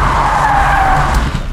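A car skids into a spin during a driving course, the driver working the clutch and handbrake: a loud, sustained tire squeal and engine drone run for about a second and a half without speech.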